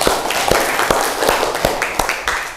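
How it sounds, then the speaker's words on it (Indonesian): A classroom of students claps together in a steady rhythm, with about seven sharp, evenly spaced claps. "Tepuk tangan kalian semua"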